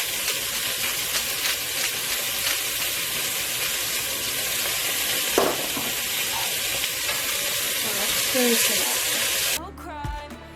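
Chunks of beef for stew sear and sizzle steadily in a hot Dutch oven, a dense continuous frying hiss with occasional stirring clinks, close and unbroken until it cuts off near the end.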